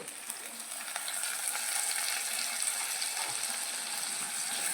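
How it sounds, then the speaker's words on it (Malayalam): Tomato sautéing in a pan with onion, ginger and garlic, a steady soft sizzle and crackle throughout at moderate level, with no talking. "ഇത് വഴറ്റി കൊടുക്കട്ടെ വെളുത്തുള്ളി തക്കാളി പച്ചമുളക് ചെറിയ ഉള്ളി കൂടി നല്ലോണം മാറ്റിയിട്ട്"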